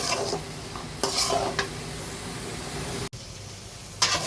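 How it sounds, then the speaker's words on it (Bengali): Onions frying with salt, ginger and garlic in a pan on a home kitchen stove, a steady soft sizzle broken by a few sharp stirring scrapes and clinks from the spoon, with no talk. "লবণ দিয়ে পেঁয়াজটা ভেজে নিব তাহলে আদা রসুনের কাঁচা গন্ধ আর পেঁয়াজের গন্ধটাও চলে যাবে"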